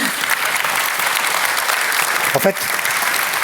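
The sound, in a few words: audience applause at a conference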